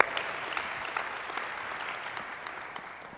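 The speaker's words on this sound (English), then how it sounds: "give him a round of applause" Audience at a biohacking event fireside talk applauds, a steady patter of many hands clapping at moderate distance, tapering slightly toward the end with no talk over it.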